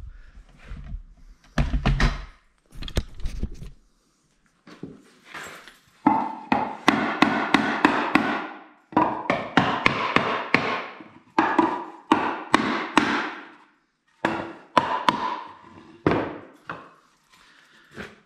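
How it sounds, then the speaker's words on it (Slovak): Sharp, irregular knocks of a rubber mallet on a wooden corner joint, struck in quick bursts of several blows with brief pauses between, close and fairly loud. "Zoberieme si gumené kladivo."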